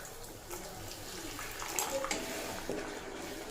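Hot water pours into an egg curry masala to make the gravy, giving a soft, continuous splashing gush. The sound is faint and close, with no talk.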